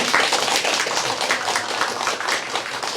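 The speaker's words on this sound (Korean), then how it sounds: "우리 박수해 주시겠습니다" Church congregation clapping for a newly baptized member at a Sunday service in Busan, a dense, even round of applause filling the room throughout.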